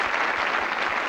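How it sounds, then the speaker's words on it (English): Studio audience at a 1984 TV game show applauding, a dense steady wash of clapping filling a brief moment without a break. "Give them a round of applause and thank them"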